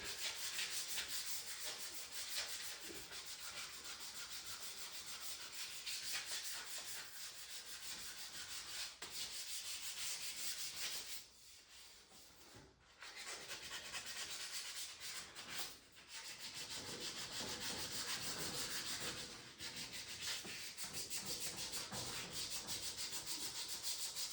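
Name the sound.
sanding by hand with scrap sandpaper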